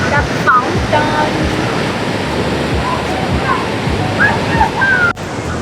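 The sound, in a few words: water fountain splashing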